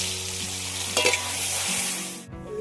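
Coriander leaf paste hits hot oil in a wok and sizzles loudly while being stirred, a steady frying hiss with a few scraping stir sounds before it cuts off near the end.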